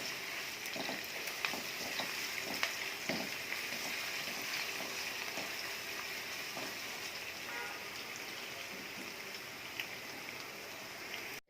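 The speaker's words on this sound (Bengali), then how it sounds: "রসুন কুচি, এগুলোকে হালকা একটু ভেজে নেব।" Chopped garlic frying lightly in a pan, a soft continuous sizzle with scattered crackles and pops, fairly quiet and close, no talking.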